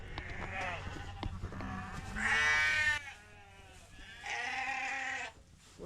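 Sheep on a family farm bleat close by in several drawn-out, wavering calls separated by short pauses.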